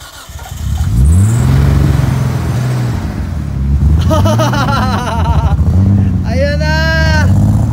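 A Nissan Skyline R33 engine cranks and catches, then revs and holds a rough, loud idle under overlapping talk from nearby voices.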